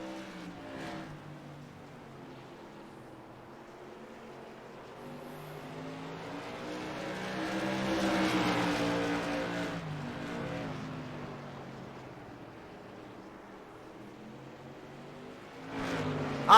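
Race cars in a racing league event roar past one after another, their engine notes rising in pitch and then falling away. The sound swells loud at mid-pass and fades, with another sharp rush at the end.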